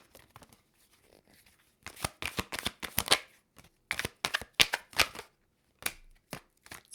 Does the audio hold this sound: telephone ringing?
no